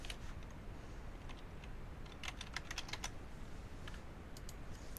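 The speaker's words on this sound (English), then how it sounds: "it works similarly to Word as a word processor, so you can just type like you normally would." Computer keyboard typing in a word-processor-style editor, faint scattered keystroke clicks in short bursts over a quiet hiss, no talking.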